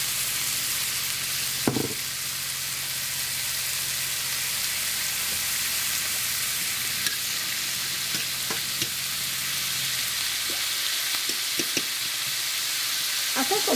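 Chopped white onions sizzle in oil in a pan, a steady, hissing fry throughout with a few faint clinks and stirring taps from the utensils.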